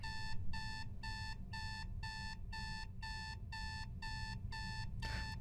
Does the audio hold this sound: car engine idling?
no